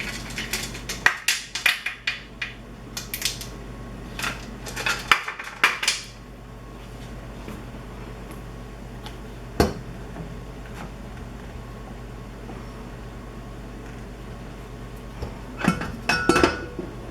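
Metal clinks and clanks as the lid of a pressure canner used for bone broth is loosened and lifted off, with scattered close clatters early, a sharp knock midway, and a quiet stretch between.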